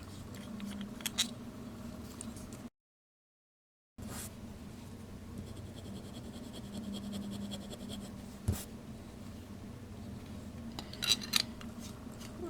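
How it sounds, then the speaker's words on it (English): Fountain pen with Noodler's North African Violet ink scratching across 20-pound copy paper, a faint close-up scraping of strokes with a brief gap and a few sharper ticks, no talk. "for our first writing sample here, we are going to use the 20-pound copy paper."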